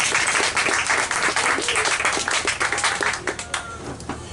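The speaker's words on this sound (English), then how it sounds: "let's give him a big round of applause" Loud, dense audience applause fills the whole stretch, a steady wash of many hands clapping at a Science on Tap talk, tapering slightly toward the end with no voices over it.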